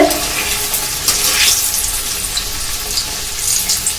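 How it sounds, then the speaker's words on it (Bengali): Radhaballabhi dough rounds deep-frying in hot oil, a steady loud sizzle and hiss with crackling bursts throughout, no talk. "আমি এই রাধা বান্ধবী ছেড়ে দিলাম তেলেতে দেখুন কত সুন্দর ভাজা হচ্ছে"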